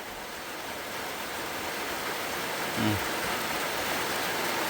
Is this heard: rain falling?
yes